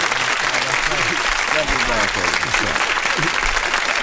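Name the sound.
audience applause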